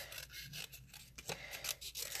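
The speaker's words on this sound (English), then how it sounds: "now what I'm going to do is take my paper snips, even with the glue on there, and I am going to fussy cut this." Paper snips cutting through a sheet of paper with glue on it during a card-making stamping session, giving a close, steady run of crisp snipping and rasping cuts with short pauses.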